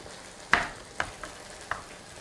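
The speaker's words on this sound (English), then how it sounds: "And we are sizzling." Food frying in a pan while cooking lettuce wraps with hoisin sauce, a quiet continuous sizzle broken by a few sharp clinks or pops, with no talk.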